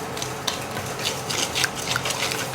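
Madeleine batter with honey, brown sugar, eggs and butter being mixed in a bowl, giving soft repeated scraping and clinking strokes at a steady rhythm, close and moderately loud, with no talking.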